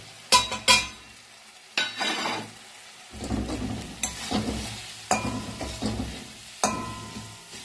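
Spatula stirring and scraping tomatoes and ground spices in hot oil for ghugni, a Bengali dried-pea curry, cooked until the oil separates: a steady sizzle broken by several sharp, close scraping strokes, with no talking.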